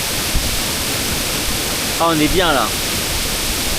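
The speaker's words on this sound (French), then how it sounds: "On arrive à présent sur la deuxième cascade." A rushing waterfall, the second cascade near an Edo-era village in Japan, gives a steady, full roar throughout, with a person speaking briefly over it midway.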